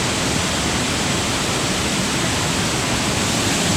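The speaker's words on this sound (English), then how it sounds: "There's a lot of mist coming up off of this waterfall" A waterfall pours down onto rocks, throwing up mist, in a dense, constant roar of rushing water that stays loud and unbroken from start to finish.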